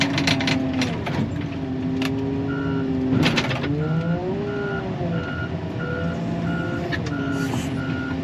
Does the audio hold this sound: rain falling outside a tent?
no